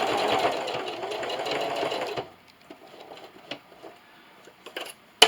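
A sewing machine stitches a quilted canning mat, running steadily and loudly for about two seconds before stopping, followed by quieter clicks and handling sounds and a sharp tap at the end.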